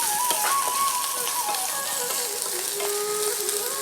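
Chopped chilies and ginger fry in a pan, giving a dense, continuous sizzle and crackle with faint stirring, close up and without talk.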